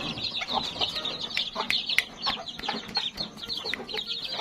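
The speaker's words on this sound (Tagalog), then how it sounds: "bantams plus yung mga native chickens" Bantam and native chickens cluck and chatter in a busy cluster, with sharp, repeated calls overlapping near the listener throughout, no talking.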